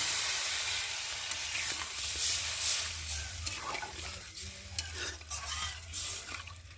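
Water poured into a pan of fried spices for a fish curry with cauliflower and potato: a soft, low sizzle and bubbling with stirring scrapes, fairly faint and close, with no talking.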